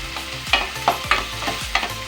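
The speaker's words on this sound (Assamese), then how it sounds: "2 মিনিট সময় মই গেছটো হাই ফ্লেমত থৈ এইখিনি ভাজি দিম।" Onion-tomato masala for mushroom cauliflower frying over a high gas flame, a constant close sizzle broken by brisk, evenly spaced stirring scrapes and clicks of a spoon against the pan.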